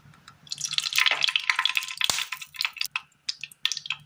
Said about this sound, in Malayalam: അടുപ്പത്തൊരു പാൻ വെച്ച് കൊടുത്തതിന് ശേഷം ഇതിലേക്ക് നമുക്ക് ഒരല്പം എണ്ണ ഒഴിച്ചു കൊടുക്കാം